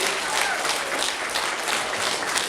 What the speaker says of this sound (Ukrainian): Ми не перестаємо вам аплодувати.